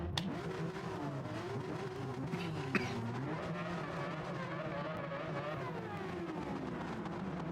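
A race car in a GT1 league racing video game drives at sustained high revs, engine note rising and falling through gear changes and braking zones, loud and continuous without speech.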